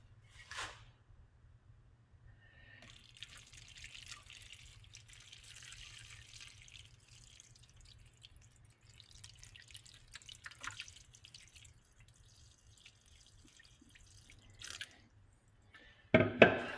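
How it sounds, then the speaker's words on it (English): Water poured into a seed-starting greenhouse kit filled with peat pellets, a quiet trickling and dripping that runs steadily for several seconds, faint and close, with a louder splash near the end. "So I'm gonna add some water"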